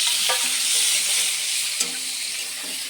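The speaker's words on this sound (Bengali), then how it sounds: "আজকে মা ডিমের ঝোল রান্না করছে" Egg curry cooking in a pan on a gas stove, a steady bright sizzle and bubbling throughout with a few faint clinks of a utensil, no talking.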